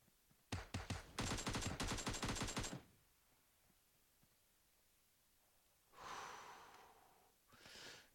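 Rapid bursts of PUBG Mobile gunfire fill the opening seconds, loud and tightly spaced like automatic fire. After a quiet stretch, two shorter, softer noisy bursts follow.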